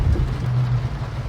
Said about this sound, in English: it's a little satisfying when it rains like this.